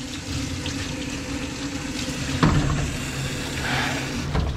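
Water hisses steadily from a rinse sprayer during a Cocker Spaniel's grooming, a continuous close rush with a brief knock midway and faint shifts in flow.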